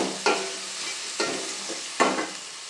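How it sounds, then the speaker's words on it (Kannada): Tomatoes are stirred into frying okra gravy in a pan, with three distinct scraping strokes of a spoon over a soft, steady sizzle. "ಈಗ ಇದಕ್ಕೆ ಟೊಮೆಟೊ ಆ್ಯಡ್ ಮಾಡ್ಕೋಬೇಕು ಟೊಮೆಟೊ ಎಲ್ಲ ಸ್ವಲ್ಪ ಸಾಫ್ಟ್ ಆಗಬೇಕು ಅಲ್ಲಿವರೆಗೂ ಇದನ್ನ ಮಿಕ್ಸ್ ಮಾಡ್ಕೋಬೇಕು"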